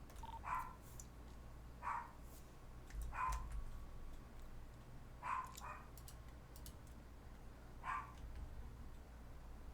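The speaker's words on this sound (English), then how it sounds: "That dog gonna lose its voice again." A dog barks five times at even, widely spaced intervals, each bark short and fairly distant over a quiet background hum.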